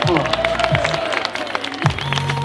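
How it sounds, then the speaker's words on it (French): A crowd claps and cheers at the Paris-Roubaix 2019 team presentation as cyclist Alexander Kristoff is introduced. The loud, continuous applause is mixed with crowd noise and a speaking voice over a public address system. "Applaudissements pour Alexander Kristoff"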